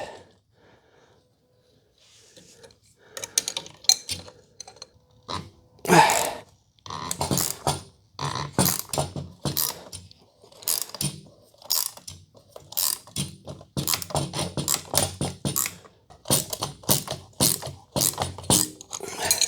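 An open end wrench with an adjustable plier on its end turning a threaded stud on a 3rd gen Toyota 4Runner, giving irregular close metallic clicks, scrapes and ratcheting clunks in bursts.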